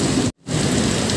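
Heavy rain pouring down suddenly, a dense, loud hiss and patter of drops on surfaces, cutting out for a split second before resuming at full strength.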